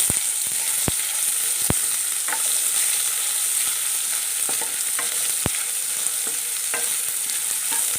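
Thin slices of coconut roast in a pan, giving a steady sizzle and hiss with occasional sharp scraping ticks of stirring, close and continuous with no voices.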